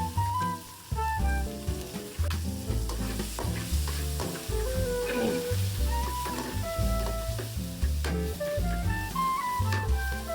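Ingredients for a village-style dry curry fry and are stirred in oil, giving a steady sizzle with spoon scraping. A loud musical track plays over the cooking throughout, and no one speaks.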